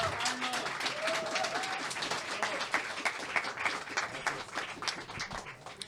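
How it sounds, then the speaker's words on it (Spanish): Audience applause greets a poet at a poetry night in Casa Parker, Alajuela; steady crowd clapping fills the whole stretch, moderately distant and even, with no talk over it. "Un gran aplauso y bienvenido,"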